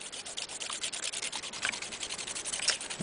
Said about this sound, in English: Okay, got it nice and sanded.